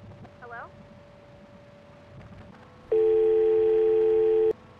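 After a short hang-up call at a call center, a loud steady telephone tone sounds for about a second and a half before cutting off, following a quiet stretch with faint chirps.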